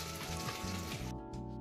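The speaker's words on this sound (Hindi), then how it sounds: "अब इसे जो है फ्राई करेंगे हम" Bread sandwich sizzles and crackles steadily in preheated oil, a close, continuous fry hiss with no talk.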